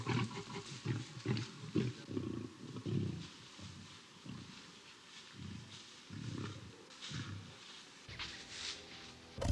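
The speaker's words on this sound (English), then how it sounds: "The larger male roars again, longer, fiercer this time." A large male lion roars in the wild, letting out a series of deep, rhythmic grunting roars that swell and fade, strong but heard from a short distance.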